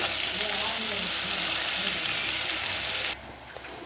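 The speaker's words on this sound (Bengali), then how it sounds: "এবার পেঁয়াজ আর লঙ্কা কুচি আমরা ভালো করে নেড়ে নেব।" Onion and chopped green chilli frying in hot oil while being stirred, a loud close continuous sizzle with scraping that drops off sharply near the end, faint talk beneath.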